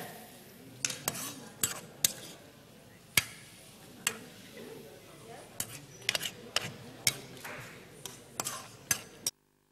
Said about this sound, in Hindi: अब इसको हिलाते रहो